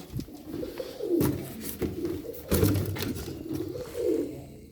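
Pigeons coo repeatedly at an open-air Saturday bird market at Edirnekapı, Istanbul, in steady, overlapping throaty calls that sound close and fairly loud, with no voices over them.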